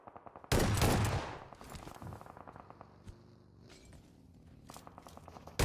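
Gunfire from a shotgun in PUBG Mobile during a Global Championship match, with a loud blast near the start followed by scattered fainter shots and a final burst under game ambience.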